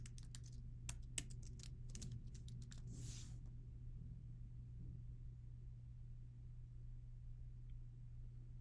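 A burst of quick keystrokes on a computer keyboard, a cluster of sharp clicks for about three seconds over a steady low hum, then the keys fall silent and only the hum remains.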